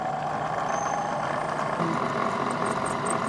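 A milling machine spins up with an end mill cutting into a metal Catan hex tile, a steady broadband machine drone with mechanical whir that holds at an even level throughout, a few faint high tones near the end.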